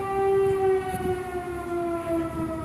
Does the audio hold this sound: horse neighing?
no